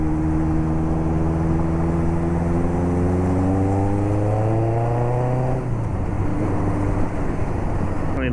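A motorcycle's engine winds up steadily as the rider lets out the clutch and floors it, its pitch climbing smoothly for several seconds before dropping sharply at a gear change and starting to rise again, loud and close.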